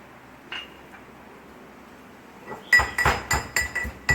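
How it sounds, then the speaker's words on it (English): Cardamom pods, about five, are ground by hand for Basundi, a series of sharp clinking, pounding strikes that starts after a quiet stretch and repeats in a quick, uneven rhythm, close and fairly loud. "Then take few pieces of cardamom. I would take around 5. Yeah, grind it well."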